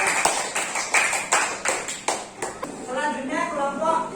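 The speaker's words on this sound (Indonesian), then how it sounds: "Tepuk tangan untuk kelompok 1." Students in a primary classroom clap in a rhythmic, patterned beat for a presenting group, sharp claps spaced about every half second, then children's voices take over near the end.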